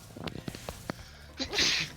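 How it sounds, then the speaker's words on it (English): A single person sneezes once, near and fairly loud, near the end, after a few soft breaths and small mouth noises during a game stream. "I'm just casually sneezing"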